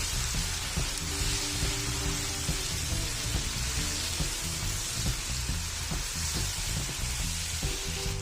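Chicken feet cooking in a pan with spices such as Kashmiri red chilli produce a dense, even sizzle that hisses steadily and loudly at close range, with faint bubbling pops and no voices.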